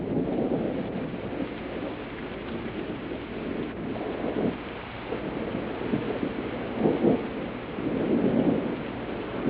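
Torrential rain pours down on a Ganges riverbank during a night thunderstorm, a steady roar with gusts of wind buffeting the microphone and low thunder rumbling and swelling in the distance.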